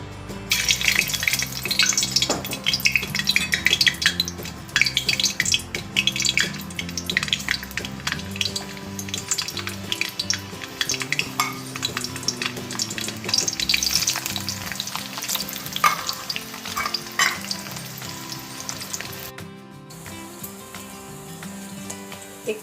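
Cardamom, cloves and garlic fry in oil as a gravy base, with a continuous crackling sizzle and repeated stirring scrapes close by. The sound softens slightly toward the end.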